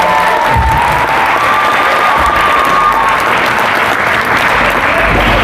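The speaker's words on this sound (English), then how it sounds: "So give them one more round of applause." Sustained loud applause from an audience honoring volleyball players at an academy end-of-season celebration, a dense wash of clapping with some cheering mixed in, steady throughout.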